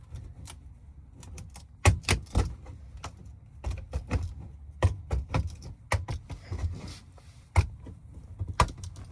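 Worn tin snips with a chipped blade cut sheet metal during a pipe installation, giving a series of sharp, irregular snapping crunches with short pauses in between, close and fairly loud.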